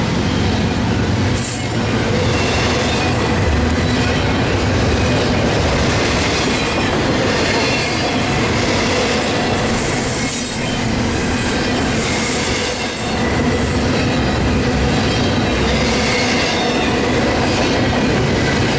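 A freight train with CN, CSX, NS and CP locomotives rolls past very close and loud at Fullerton, a continuous heavy roar of rumbling wagons with rhythmic clacking wheels and occasional metallic squeals.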